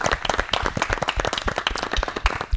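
Studio audience at a French auto-moto radio show breaks into dense, steady applause, many hands clapping close and loud throughout with no talk over it.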